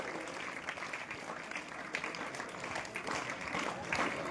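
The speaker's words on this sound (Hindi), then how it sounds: "तो इन सभी गुरुजनों के लिए जोरदार क्लैपिंग, तालियों की गड़गड़ाहट बंद होनी चाहिए।" Sustained applause for teachers at a school event, a dense crowd clapping steadily for several seconds with a few louder bursts, heard up close throughout.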